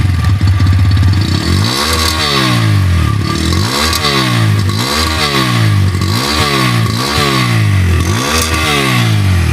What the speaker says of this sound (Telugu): ఒకసారి మీకు ఈ బైక్ యొక్క ఎగ్జాస్ట్ నోట్ వినిపిస్తాను